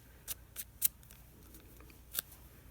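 Scissors snipping excess paper off the edge of a handmade mini book, a few quick crisp cuts close up, quiet and isolated with short gaps between snips.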